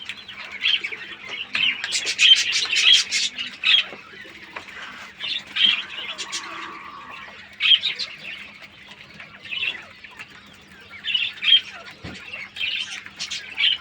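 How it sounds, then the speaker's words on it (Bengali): King quails in a breeding farm call and chirp repeatedly, with busy overlapping squawks and tweets close by, some wing flutter mixed in, and no talking. "কিং কোয়েল পাখি আছে আলহামদুলিল্লাহ।"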